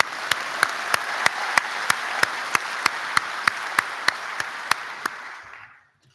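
Applause rises from a crowd at a graduation ceremony, with a single sharp clap standing out at a steady beat above the even wash of many hands, then fading out.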